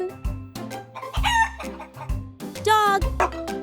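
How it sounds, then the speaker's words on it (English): A rooster crows twice in full cock-a-doodle-doo calls, loud and near, each burst rising then trailing off, set over a bouncy backing beat with short pauses between. "Chicken."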